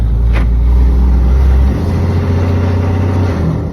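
Ram 2500 pickup with a 6.7L diesel engine fitted with a Pedal Commander, revving loudly and close under a light touch of throttle, a deep steady drone that eases to a lower idle partway through.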